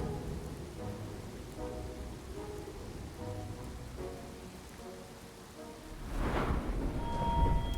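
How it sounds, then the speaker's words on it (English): Steady rain hisses over the Skyrim landscape, a dense wash of falling drops with a swelling rumble building near the end, no voices present. "as long as it stops raining"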